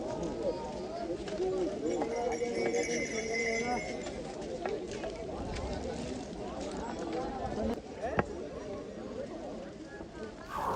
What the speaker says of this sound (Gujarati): આ તમે જોઈ શકે ઘોડા કેટલા બધા છે